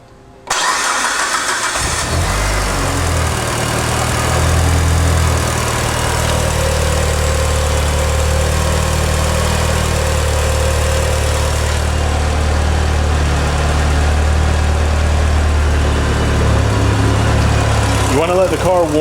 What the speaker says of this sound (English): Now we're going to start the car.